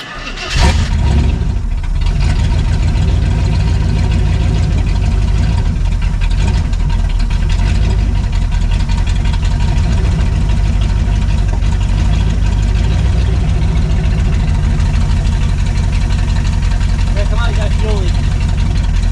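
A J10 crew cab pickup truck engine, with no exhaust fitted yet, idles loudly and steadily up close, a deep low rumble with a rough, uneven knock that holds throughout.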